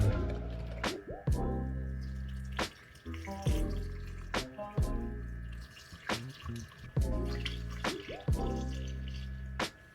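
Fluid draining from a BMW E46 during maintenance, a close stream of liquid splashing and dripping into a container with repeated gurgling pulses and sharp drips over ten seconds.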